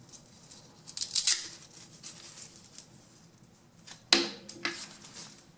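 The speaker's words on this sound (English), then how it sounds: "Let's get the hose connected." A braided hose from an Avanti airbrush compressor is connected, giving two short bursts of close metallic clicking and rattling of the fitting, separated by a quiet pause.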